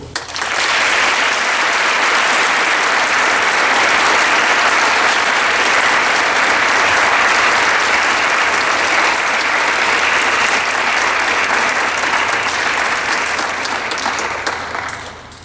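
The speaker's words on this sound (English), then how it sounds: "Will you please join me in applauding?" Sustained, loud applause fills a high school gathering during the Lord Mayor of Westminster's visit, a dense steady clapping from a large audience that holds for about fifteen seconds before fading slightly at the end.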